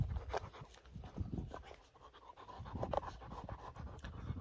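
A six-month-old black Canadian wolf and wolfdog hybrid female pants close by in quick, rhythmic breaths, with a short lull midway and faint shuffling around it.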